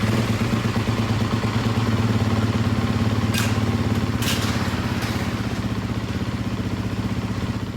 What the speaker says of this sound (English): warm the bike up to ensure a complete and rapid drain